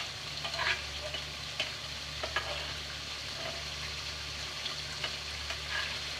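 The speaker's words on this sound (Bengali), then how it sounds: "মাছের কাঁটাগুলো বের করে নেওয়া হয়ে গেছে, এখন আস্তে আস্তে ভাজা ভাজা করে নেব।" Deboned lotke fish pieces fry in a pan for fish jhuri, giving a steady hissing sizzle broken by occasional scraping stir clicks, with no voices.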